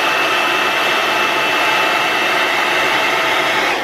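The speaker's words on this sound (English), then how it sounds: "hit it with a blow dryer" A blow dryer runs at full power drying hair, a loud steady roar held close throughout with no pauses or voices.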